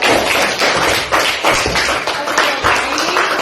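Students in a Christian religious education class clap together, giving a loud, close burst of dense, continuous applause that lasts a few seconds with no talking.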